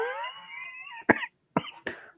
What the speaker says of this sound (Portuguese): Eu tô com tosse há uns dias pra cá.